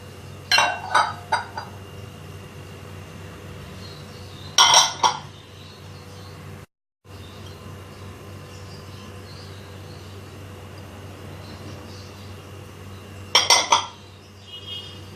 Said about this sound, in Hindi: एक बड़े बाउल में ये तमाम इंग्रेडिएंट्स जो हैं वो डाल के मिक्स करेंगे